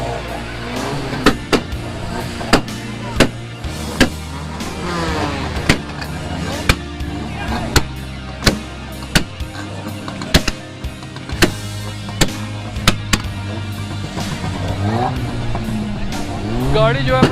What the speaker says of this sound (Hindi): गाड़ी जो है पटाखे मार रही है।